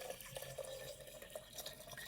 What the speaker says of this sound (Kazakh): Шәйнекке бір данасын салып, үстінен қатты градуста қайнаған суды емес, кішкене суыған ыстық суды құюға кеңес беремін.